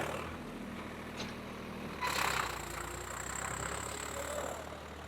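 Swaraj 855 tractor engine running in gear in medium range, a steady low diesel drone throughout with a brief louder surge partway, no voices.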